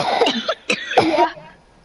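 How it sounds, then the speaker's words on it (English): A person coughs in several harsh, close bursts, with a short throat-clearing sound among them, before the clip trails off into quiet. "But you coughing like a lot, my guy."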